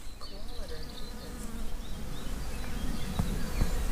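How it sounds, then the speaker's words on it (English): Bees buzz close by among cherry blossoms on a hiking trail in Frick, Switzerland, in a continuous, wavering drone, with occasional louder passes as individual insects fly near. "Oh, I can hear the bees now."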